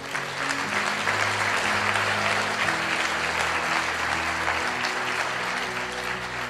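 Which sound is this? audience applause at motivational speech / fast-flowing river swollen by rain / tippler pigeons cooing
audience applause at motivational speech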